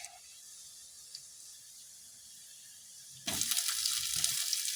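Onions hit a pan already holding ginger and garlic for a homestyle chicken curry, and after a quiet stretch a sudden loud sizzle bursts up and keeps going, close and steady, with a few stirring knocks.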